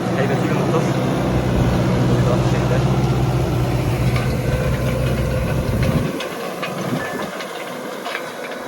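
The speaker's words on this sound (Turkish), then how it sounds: "4 silindirli bir traktör" A CLAAS Arion 440 four-cylinder tractor engine idles with a loud, steady low chugging and hiss, then cuts out near the end, leaving quieter background.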